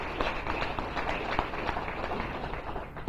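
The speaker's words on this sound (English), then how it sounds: "If we could give her a round of applause." Audience at an oak wilt symposium on Long Island applauding, a moderate, steady patter of clapping from a modest indoor crowd, fairly even throughout the short stretch.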